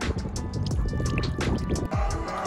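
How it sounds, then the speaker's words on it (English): Water streams and splashes steadily out of a sailboat's watermaker discharge, a busy continuous gurgle with dripping and sloshing, close by with no talking. "Okay, so we have water coming out."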